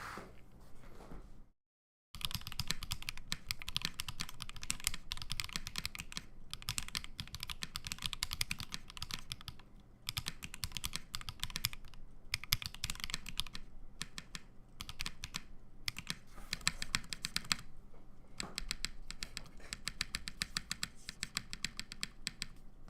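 Typing on a custom-built mechanical keyboard: a dense, continuous stream of close, crisp key clacks with occasional short pauses, no voices.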